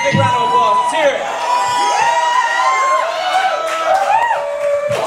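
A crowd cheers, whoops and shouts for the metal band Sorrowseed at a live show at the Asylum. The loud, dense din holds steady, with high yells rising over the mass of voices.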